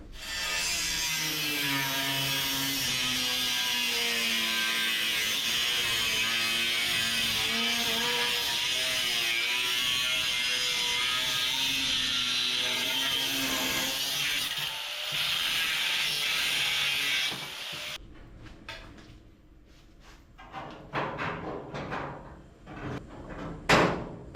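Hundred-year-old metal on a yard-art hot rod is cut in one long, steady, loud grinding run for about eighteen seconds, followed by scattered clanks and handling knocks.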